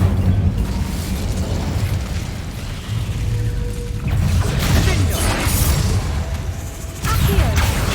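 Incendio fire spells cast in Hogwarts Legacy, a loud run of whooshing flame bursts and booming impacts with rattling mechanical clatter, repeated several times at close range.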